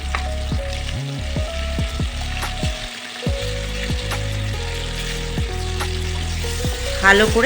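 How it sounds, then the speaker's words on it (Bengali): Long-cut kudri (ivy gourd) frying in oil with coriander powder for a potato chochori, giving a steady close sizzle with stirring, under tonal background music and a brief spoken phrase. "এবারে কুদরিটাও ভেজে নেব ওই তেলের মধ্যে"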